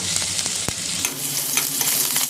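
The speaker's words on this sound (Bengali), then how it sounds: "এবারে দিয়ে দিচ্ছি 5 ফোড়ন, একটা শুকনো লঙ্কা আর রসুন কুচি" Chopped garlic, a dried red chilli and five-spice seeds fry in hot oil for a jute-leaf dal, a loud, continuous close sizzle with a few stirring scrapes and no talk.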